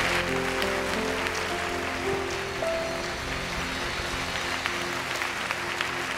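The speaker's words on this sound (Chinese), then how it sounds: "我们给神一个最大的掌声" A church congregation at a Sunday worship service applauds together, producing a steady, dense wash of clapping that holds evenly for several seconds with no voices over it.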